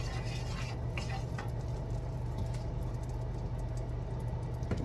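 Chicken pieces frying in butter in a pan, a dense steady sizzle and patter of fat running the whole time, with a low hum underneath and small clinks, no voices.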